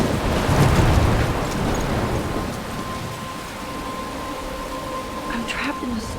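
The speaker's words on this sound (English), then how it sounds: "I'm trapped in a storm?" Stormy weather in the game Life is Strange: heavy rain and wind roar loudly at first, then settle into a steady wash with a low rumble, while a voice speaks over it.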